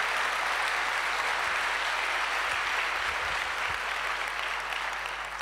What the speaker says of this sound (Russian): Господу большие аплодисменты.